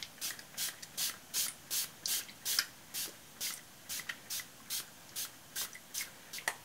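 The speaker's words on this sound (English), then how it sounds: "let's spray that and do the same" Rapid, evenly spaced hissing bursts from a spray bottle spraying liquid onto paper, about a dozen short pumps in a steady rhythm, close up and fairly quiet.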